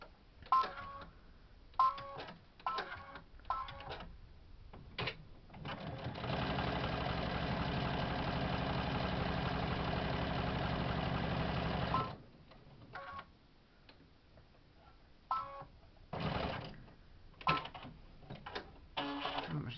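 A domestic sewing machine stitches layered fabric pieces for a face mask in one steady run of about six seconds, set between short bursts of handling and scattered clicks.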